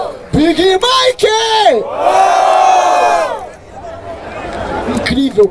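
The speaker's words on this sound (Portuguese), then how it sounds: "Eu só ouvi as pessoas do fundo gritar, mano." A rap battle crowd at Batalha da Aldeia in Barueri, São Paulo roars, with loud close shouts followed by a long sustained collective yell and cheering that fades into chatter before another burst of shouts.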